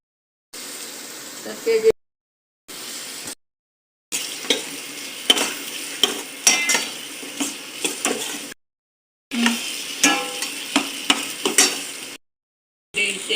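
Onions sizzle and fry in a pan with garlic as a spatula stirs them in bursts, bright crackling with scraping strokes, broken by short silent cuts, with faint voice in places.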